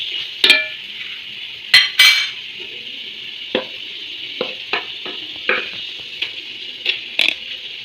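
Mashed tapioca goes into a pot of cooked chicken, giving soft wet thuds and scraping spoon clinks against the pot, irregular and close, with occasional louder metallic knocks and no talking.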